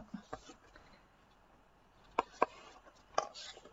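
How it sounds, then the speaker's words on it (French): Scissors or a blade snipping a small cardboard rectangle, a few sharp isolated cuts close by and fairly faint in a quiet room. "je coupe mon petit rectangle"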